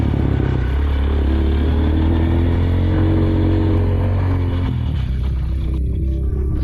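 A Honda CRF230F dirt bike engine drones loud and close on a forest trail, its steady throttle holding a low rumbling note, then easing off and dropping near the end.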